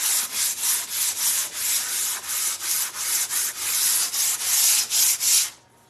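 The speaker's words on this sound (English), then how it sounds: "I usually use, this is very fine sandpaper, but I just wanted to distress it just a little bit more." Very fine sandpaper rubs against wood to distress it, in about fourteen even back-and-forth strokes that are close and loud, with no talk, ending abruptly.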